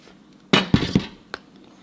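A spoon stirs a dry mix of citric acid and CMC in a small container, making three quick close clinks and scrapes followed by one lighter tap.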